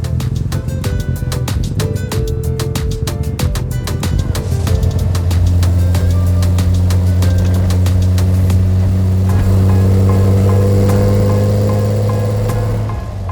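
A widebody BMW E30 with a swapped E36 M3 3.2-litre engine runs loud and close, starting with sharp rhythmic pulses before settling into a deep steady idle rumble.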